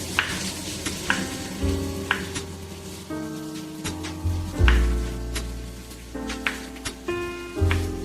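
A hilsa fish head fries in oil with bright, irregular spits and crackles over a sizzling bed, punctuated by sharper pops and a few clunks of a utensil against the pan.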